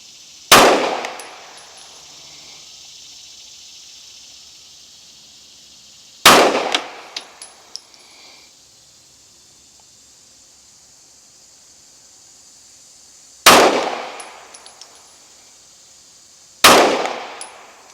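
Four sharp rifle shots during a Hi Lux TD3E optic endurance test, fired alone at uneven intervals several seconds apart, each a loud crack with a short ringing tail and faint metallic pings after.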